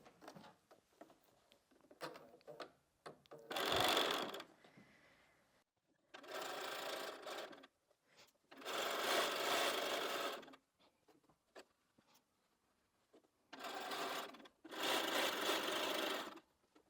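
A sewing machine stitches quilt blocks for a churn dash quilt in several sustained runs of rapid, even whirring, separated by quiet pauses with light handling and fabric rustles.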